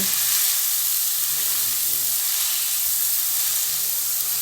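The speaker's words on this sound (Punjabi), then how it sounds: "ਇਹਨੂੰ ਕੜਛੀ ਦੇ ਨਾਲ ਆਪਾਂ ਪੂਰੀ ਕੜਾਈ ਦੇ ਵਿੱਚ ਫੈਲਾ ਦਿੱਤਾ ਤੇ ਹਲਾਉਂਦੇ ਹੋਏ ਇਹਨੂੰ ਆਪਾਂ ਭੁੰਨ ਲਾਂਗੇ ਜਦੋਂ ਤੱਕ ਪੂਰਾ ਬਰਾਊਨ ਨਹੀਂ ਹੁੰਦਾ" Mushrooms and peas with spices roast in a kadai, a steady soft sizzle and hiss running throughout with faint scrapes from stirring, no voices.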